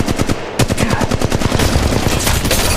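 Rapid automatic gunfire in the video game Apex Legends Mobile. Loud, close bursts of tightly spaced shots carry on almost without a break, with no voices over them.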